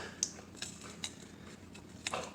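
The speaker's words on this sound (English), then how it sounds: "Take your colander." A colander is handled in a home kitchen, giving a few faint metallic clinks and taps at close range in a quiet room.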